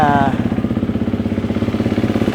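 A 2022 KTM 350 EXC-F dual sport motorcycle idles close by, a loud steady rhythmic single-cylinder thumping with a brief whine fading in the first moments.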